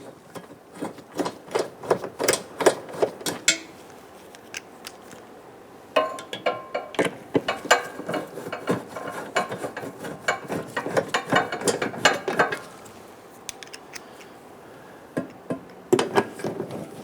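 Ratchet wrench tightening bolts on a 2011-2021 Jeep Grand Cherokee 3.6L V6 during an upstream O2 sensor replacement, rapid clicking bursts in several runs with brief pauses, close and moderately loud.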